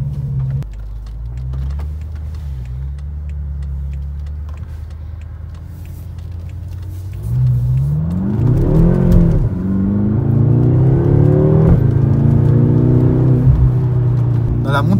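BMW M6 F12 convertible climbing the uphill road to Villard-de-Lans, engine droning steadily then revving up hard around eight seconds and holding a loud rising growl, with someone talking over it.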